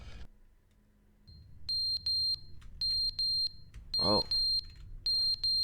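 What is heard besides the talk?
fire alarm in video game The Stanley Parable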